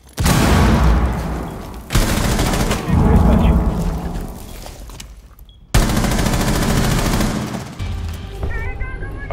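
Loud explosions and gunfire sound in bursts during a Rainbow Six Siege match, with a voice calling out over the booming blasts.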